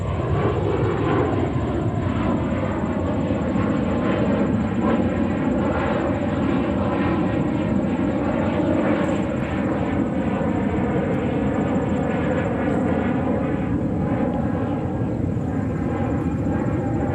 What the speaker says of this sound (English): What you hear right now is a Delta Airlines 321